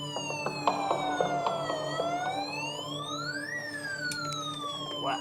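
A toy fire truck's wailing siren rises and falls steadily, bright and electronic, with faint background noise and no voices.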